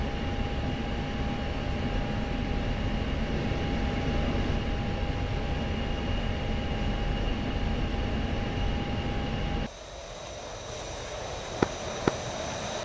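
An F-16C jet engine in a video game idles on a runway, producing a steady, close whining roar with a constant hum that drops and thins near the end, followed by a couple of sharp clicks.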